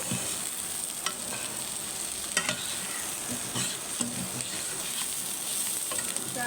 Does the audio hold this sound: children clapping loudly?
no